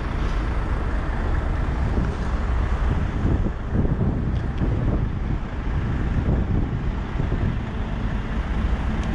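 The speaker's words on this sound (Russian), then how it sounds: "Видите, какой ветер." Strong wind blows outdoors high in the Italian Alps, a steady, loud, broadband roar buffeting the microphone throughout with no voices.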